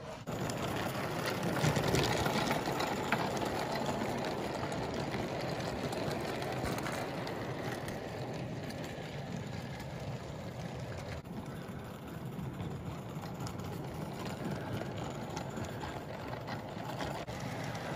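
A 1920s Bassett-Lowke 0 gauge live steam locomotive struggles to run outdoors in falling snow, giving a continuous soft hissing and chuffing wash, fairly faint and steady, with occasional faint clicks.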